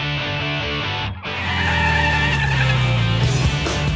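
The Volvo Iron Knight record-breaking racing truck roars loudly with its engine note rising steadily after a brief dip, accompanied by tire squeal during a hard acceleration run.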